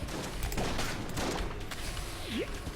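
Gunfire in the video game Enter the Gungeon crackles as a dense, rapid, low-level fusillade of overlapping shots, with a brief whistling sweep near the end.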